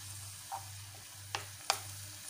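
Chopped onions and peppers fry gently in a tajine with a steady, quiet sizzle, broken by a few soft stirring scrapes. It is close, with no talking.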